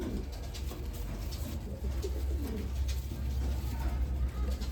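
Caged lineage pigeons coo steadily and close by, their soft, rolling calls repeating over a constant low background hum.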